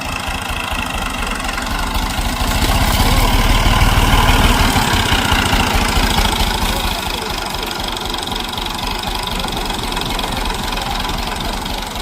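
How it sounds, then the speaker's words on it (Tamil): A tractor engine runs steadily while reversing, with a low, knocking idle rumble that swells briefly midway, continuous throughout with faint background talk. "இந்த டிராக்டர் இப்போ ரிவர்ஸ் அடிக்கிறோம்"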